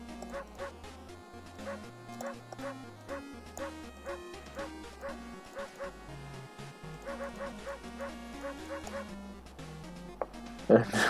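Dog barking at the dog shop in the World of Horror video game, short yips and bow-wows repeating over a steady looping chiptune-style music track, with a louder burst at the very end.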